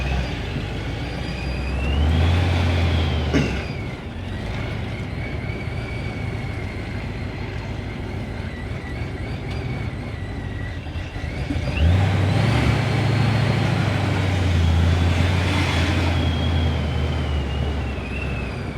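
A supercharged Ford 3V V8 runs loud and close, climbing through two strong revs with a rising whine, easing back to a rough idle between them.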